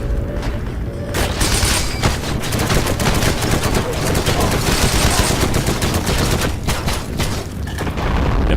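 Sustained heavy gunfire rattles throughout in the World War II shooter Heroes & Generals, dense machine-gun bursts and loud shots layered into a continuous barrage with no pause.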